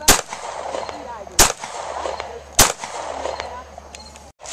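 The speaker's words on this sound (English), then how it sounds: "seems to like the 45 and 357 Magnum he's shooting now" Three sharp, loud shots from .45 and .357 Magnum handguns ring out at a steady spacing of about a second and a quarter, each trailing a brief echo, with faint talk and background noise between them.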